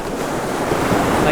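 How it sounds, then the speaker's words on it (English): Ocean surf rolling onto a Cape Cod beach in New England, a steady broadband wash that swells slightly louder toward the end, with some wind rumble on the microphone and no talking. "like have lovely waves"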